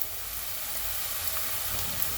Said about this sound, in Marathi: आता आपण भाजीला फोडणी देऊया। लसूण थोडा गुलाबी झाला